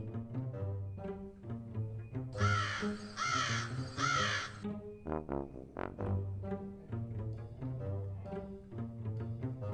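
A crow caws harshly several times, loud and close, over steady background music.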